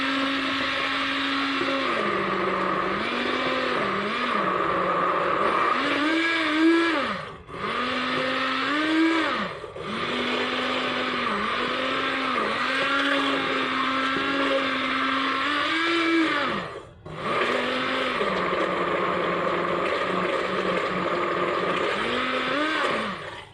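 An electric mixer whirs through homemade vanilla ingredients with oil added, a loud, close, steady motor whine whose pitch wobbles as the load shifts. It runs continuously for over twenty seconds, with a few brief dips, and no one speaks.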